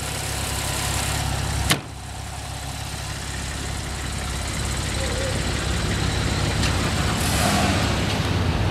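A 3.8-liter direct-injected engine in a 2010 Porsche 911 Targa 4S idles with a steady, even rumble throughout, broken early by one sharp click.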